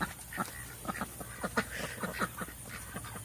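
Ducks quack from their pen on a farm in a steady run of short, nasal calls, moderately close and lively against a faint outdoor background.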